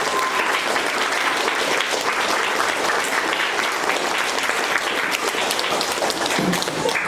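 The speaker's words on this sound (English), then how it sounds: "we're going to go ahead and do our big round of applause for October Grit and Gratitude" A large crowd at a school quarter-two awards ceremony breaks into sustained, steady applause for student award winners, dense clapping filling the room throughout with faint voices beneath.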